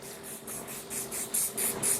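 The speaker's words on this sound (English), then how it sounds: "what you want to do, you want to use your holding spray" Holding spray is misted onto a client's hair during a barber lineup for a drop fade: about nine quick, close hissing bursts in a fast even rhythm, growing slightly louder.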